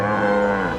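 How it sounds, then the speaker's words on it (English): A cow gives one steady, low, sustained moo, loud and near, lasting under a second with nothing else heard. "A cow?"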